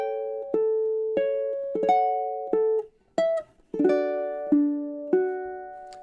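A solo ukulele plays measures 25 through 28 of Chopin's Nocturne Op. 9 No. 2, a slow line of plucked notes and brief chords that ring and fade, with a short pause midway, close and unaccompanied.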